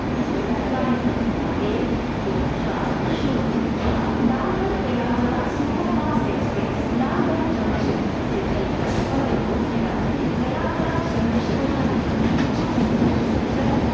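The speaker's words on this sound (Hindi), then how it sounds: "रेलवे स्टेशन पर अराइवल होता हुआ आम जनता की राजधानी राजेंद्र नगर टर्मिनल न्यू दिल्ली संपूर्ण क्रांति एक्सप्रेस।" Sampoorna Kranti Express, a Rajendra Nagar Terminal to New Delhi train, rolls into a railway station with a steady close rumble and rhythmic wheel clatter over the rails throughout, with faint voices in the background.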